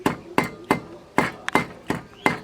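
Spices are pounded with a mortar and pestle in a village kitchen. The pestle strikes in heavy, evenly spaced thuds, about three per second, and each blow rings briefly. Close and loud, with no talking.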